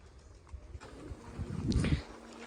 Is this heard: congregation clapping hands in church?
no